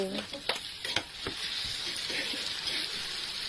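Onion, green chilli, garlic and tomato sauté in hot oil in a pan, giving a steady close sizzle with a few sharp clinks and stirring scrapes early on.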